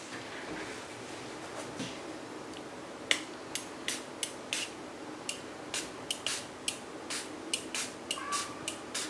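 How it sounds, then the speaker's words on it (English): A mini mister bottle spritzes onto the edges of a mixed media travel journal cover in a quick series of faint, sharp hisses over soft room tone. "grab a mini mister bottle and spritz out a little bit of the edges here"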